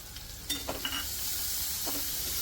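A bowlful of finely chopped onion tipped into a hot pan, a few clattering hits giving way to a loud, steady close sizzle.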